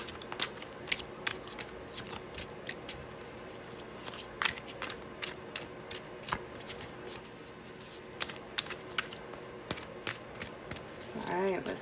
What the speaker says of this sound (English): we're going to go ahead and pull some clarifiers or confirmation cards for you guys